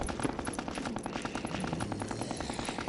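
Rapid, continuous automatic assault rifle fire in a video game, a loud, steady stream of shots that never lets up, dense and close with no pauses.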